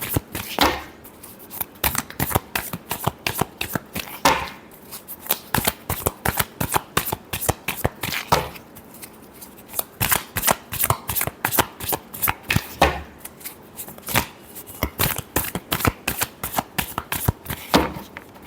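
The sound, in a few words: shuffling tarot cards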